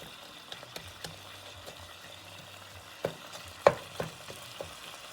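Sausage and onion sauté together in a pan for a creamy zuppa soup, a quiet soft sizzle broken by scattered clicks and a few louder knocks of stirring, fairly distant and with no talking.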